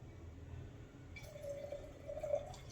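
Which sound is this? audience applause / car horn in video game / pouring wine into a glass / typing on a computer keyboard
pouring wine into a glass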